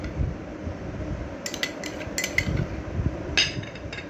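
A spoon stirring lobia bean salad with tomato chili garlic sauce in a dish, giving close metallic clinks and scrapes that come in a few scattered bursts over a soft background rumble.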